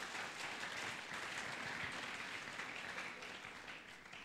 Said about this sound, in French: Est-ce que nous pouvons encore acclamer les seigneurs, s'il vous plaît?